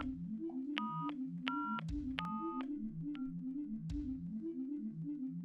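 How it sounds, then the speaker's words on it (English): A telephone being dialed in an audio drama: a series of short, clear tonal beeps at irregular intervals over a soft repeating background music pattern, fairly quiet. "Yoichi flew to the phone and dialed his friend who wanted to be a nutritionist"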